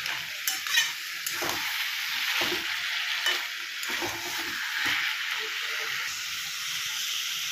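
Banana flower curry (mochar ghonto) being stirred in a pan over medium heat, a steady close sizzle broken by repeated scraping stirs of the spatula, with no talking.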